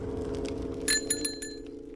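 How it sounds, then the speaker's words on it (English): Classic bicycle bell rung outdoors, a few bright metallic dings in quick succession over a low steady background hum, with no voices. "you can't beat the classic bell to let people know that you're there"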